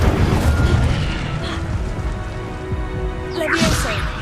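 In Hogwarts Legacy gameplay, an Incendio fire spell bursts with a low boom and a rushing, crackling roar, followed by a bright swirling flare near the end, all loud and close. A voice is heard with it.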